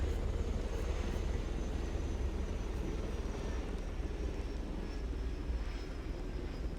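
A steady, droning helicopter engine in the video game DayZ, with a continuous low rumble and whir, constant in loudness throughout, with no voices.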